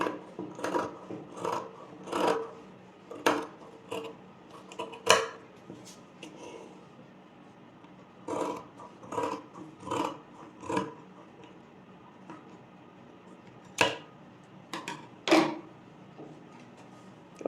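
Scissors cutting through layered blouse fabric at a tailoring table, crisp snipping strokes in short clustered bursts separated by pauses, close up and with no talking.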